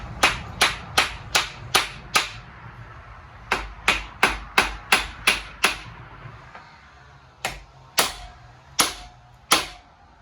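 A lead hammer strikes a part of a 1975 Triumph TR6 engine during stripping, delivering about twenty sharp, loud blows in quick rhythmic runs with brief pauses, then a few slower, spaced hits.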